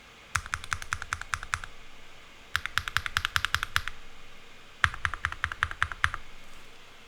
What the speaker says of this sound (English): I've put these 3 switches into the keyboard, and see if you can guess which key has which switch.